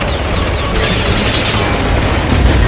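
Dense, continuous blasts and booming bursts roll without pause, loud and close, like rapid explosions in a chaotic barrage, as tanks are blown up one by one by gunfire from above.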